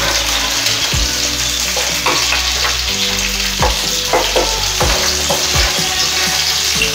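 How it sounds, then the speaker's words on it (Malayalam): Ginger, garlic and green chillies sauté in a pan with a steady, close sizzle, broken by scattered clicks and scrapes of stirring throughout, and no voices. "ഇപ്പൊ നമ്മുടെ ഇഞ്ചിയും വെളുത്തുള്ളിയും പച്ചമുളകൊക്കെ ഒന്ന് പതുക്കെ വാടിയിട്ടുണ്ട്"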